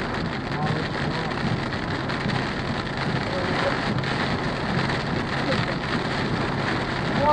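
Heavy rain drums steadily on a vehicle driving toward Bonham, Texas, a dense, constant wash of drops on the roof and glass with road rumble underneath, loud and unbroken throughout.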